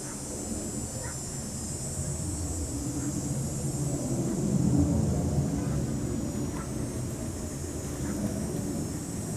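Aircraft from a distant airshow give a faint, broad rumbling drone that swells slightly in the middle, heard outdoors with wind and no close sounds.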